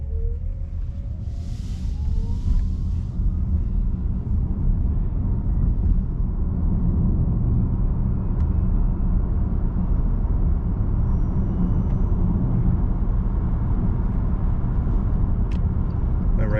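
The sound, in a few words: electric car driving on road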